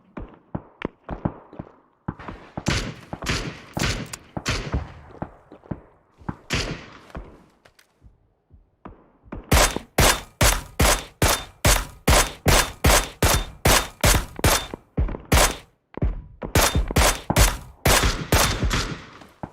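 Gunfire in PUBG comes as rapid rhythmic bursts of loud shots, first in scattered clusters and then long steady volleys with short pauses between them. It is close and punchy, with no talking.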